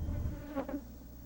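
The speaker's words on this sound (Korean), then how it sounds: "침입자를 경계하는 것일까? 꿀벌들의 비행이 예사롭지 않다." Honeybees buzz in brief flight near the hive, a faint insect drone with one passing whine.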